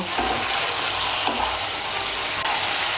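Vegetables for a traditional Bengali sukto fry in a pan over raised heat, giving a steady broadband sizzle with faint stirring scrapes throughout, alone without talk.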